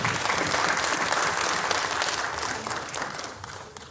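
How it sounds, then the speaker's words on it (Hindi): An audience claps warmly to welcome an honoree's family at a teachers' award ceremony held by a municipal corporation in Delhi, a dense, sustained round of applause that fades slowly over four seconds. "उनको भी एक बार हम सभी ताली बजा के एक बार उनका स्वागत कर दें।"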